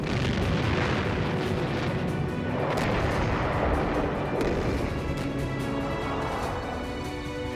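Anti-aircraft gunfire over Normandy during D-Day, a dense, continuous barrage of booms and crackling bursts at a steady loud level with no pause.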